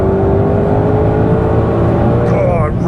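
A Shelby GT500 engine roars steadily at high revs, loud and close, its pitch climbing slightly before easing off near the end.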